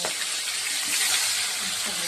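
Pieces of fish, cut rohu-style, fry in hot oil in a pan with a steady, close sizzling hiss that runs unbroken for about two seconds.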